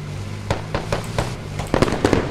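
BMP 30 mm autocannon fire in the military shooter Squad, sharp rapid bursts of cracking shots, spaced at first and then quickening into a tight volley, with a low engine drone beneath.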